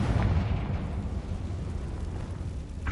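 A Confringo fire spell blast in Hogwarts Legacy, a dull rumbling roar that stays steady for a few seconds, followed by a brief sharp burst at the very end.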